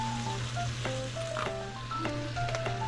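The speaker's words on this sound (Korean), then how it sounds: "볶음밥 요리사 셰프님이 볶음밥 하고 있어요" Fried rice sizzles in a pan as it is stir-fried, a steady close hiss broken by scraping and clinking from a spatula. A low hum runs underneath and a faint melodic tone sounds in the background.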